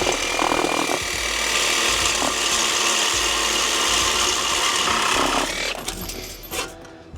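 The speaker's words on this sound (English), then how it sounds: "Well, I can get a Sawzall in there" A reciprocating saw rasps through stubborn exhaust bolts during a Ford Focus ST exhaust install. The blade chatters loudly and continuously up close for several seconds, then slows and stops, with a few clanks at the end.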